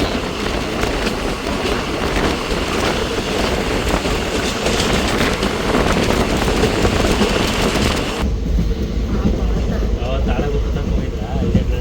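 A Mysore to Arsikere intercity train rolls along with a loud, steady rumble and rattle of the carriages heard from on board, continuous throughout, the noise dropping slightly toward the end, with voices mixed in.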